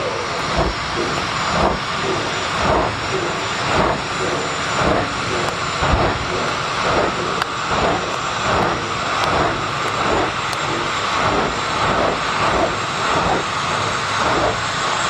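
A jet dragster at the IHRA Palm Beach Nationals drag race roars with a continuous loud turbine hiss and rumble, steady and close throughout with no talk.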